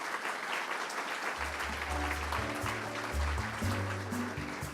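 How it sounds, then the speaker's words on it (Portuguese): Audience applause at a Brazilian leaders' panel event, a steady dense wash of clapping that holds at even loudness throughout, with a low tonal hum or music sitting underneath. "Peço uma salva de palmas para ela."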